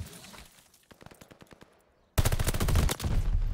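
Rapid bursts of automatic gunfire in a ranked multiplayer shooter, sparse sharp shots at first, then a sudden loud, dense barrage of continuous firing through the final second and a half.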